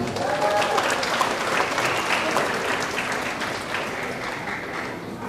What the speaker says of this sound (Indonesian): Aplaus untuk beliau.